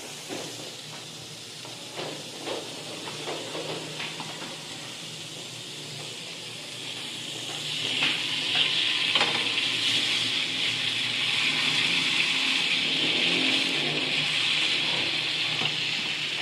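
Chicken pieces sizzle in butter on a hot tawa at an outdoor camping cook, a steady close hiss with small crackles that swells louder partway through as more pieces go down.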